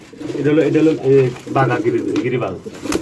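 Pigeons, including fancy breeds, coo close by at a pigeon sale in repeated soft, throaty calls, with a voice mixed faintly among them.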